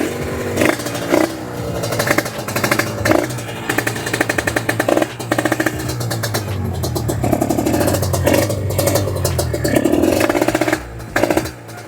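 Engine of a Yamaha NMAX scooter, turbo variant, idling while warming up after sitting several days, a steady mid-pitched running note with uneven pulsing and occasional small revs, close and fairly loud throughout.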